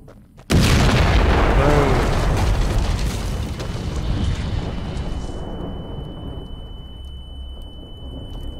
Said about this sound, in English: That explosion must have attracted attention.